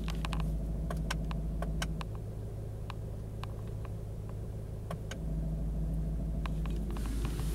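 Steady, low rumbling idle of a 2020 Ford Mustang GT350 V8 in sport mode, heard from inside the cabin near the back seat, with a deep drone and occasional faint clicks and creaks.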